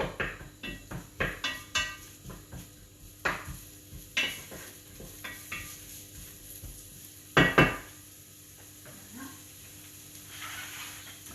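Onions dropped into a cooking pot, a series of close clattering knocks and rustles followed by faint sizzling, with no talking.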